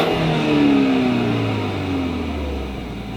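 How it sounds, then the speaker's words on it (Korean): A BMW 530i xDrive M Sport Plus exhaust gives a smooth, sporty drone that sweeps down in pitch as revs fall away over a few seconds, heard alone without talk. "방금 들으셨던 것처럼 이 배기 사운드도 굉장히 부드럽네요"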